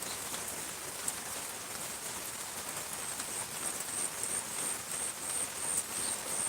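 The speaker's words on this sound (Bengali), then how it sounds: "বারান্দাতে বসে অনেকটা ভালোই লাগতেছে আমার বৃষ্টি অনেকটা কমে যাচ্ছে" Light monsoon rain easing off, heard from a veranda, a soft steady patter with scattered drips and a faint high bird or insect chirp, quiet and without speech.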